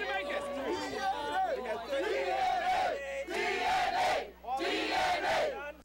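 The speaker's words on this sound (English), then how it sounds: "a joyous march from a crowd of DNA supporters" A crowd of DNA party supporters at a joyous nomination-day march cheers and chants in loud, rhythmic bursts, many voices rising and falling together close by.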